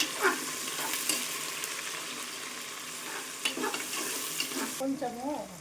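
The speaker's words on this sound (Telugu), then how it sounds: "ఇప్పుడు పచ్చిమిర్చి, ఆనియన్స్, మిర్చి ఉన్ను కరివేపాకు వేసుకోవాలి. కలుపుకోండి మంచిగా." Green chillies, onions and curry leaves sizzling in a pan as they are stirred, a steady close frying hiss with scraping strokes, then a short bright clatter near the end.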